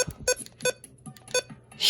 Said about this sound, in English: I can't stop listening to these button beeps. They're like so nostalgic sounding.